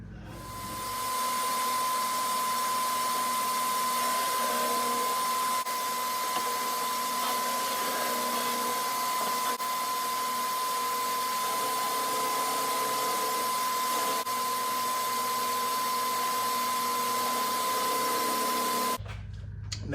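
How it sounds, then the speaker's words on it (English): An inverted drum sander whirs steadily as it flattens the wooden shell of a cajon, a loud, even machine drone with a constant high whine that runs without a break for almost the whole stretch before stopping abruptly. "I'm going to use an inverted drum sander to flatten this out."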